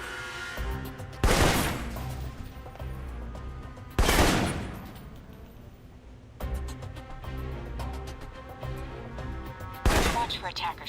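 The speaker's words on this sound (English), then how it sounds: "For long-range encounters, the assault rifle's the key" Assault rifle gunfire in the video game Alpha Protocol, four loud sharp bursts spaced a few seconds apart, each followed by a ringing decay over low game ambience.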